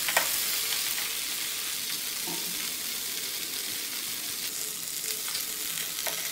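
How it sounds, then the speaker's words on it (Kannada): Fish coated in masala fries in a pan after being turned over, a dense, steady, close sizzle with occasional faint clinks, and no one speaking. "ಇವಾಗ ಒಂದು ಸೈಡ್ ಫ್ರೈ ಆಗಿದೆ, ಟರ್ನ್ ಮಾಡಿ ಹಾಕ್ತಾಯಿದ್ದೀನಿ. ಇದು ಬೇಗನೆ ಫ್ರೈ ಆಗುತ್ತೆ, 1-2 ನಿಮಿಷದಲ್ಲೇ."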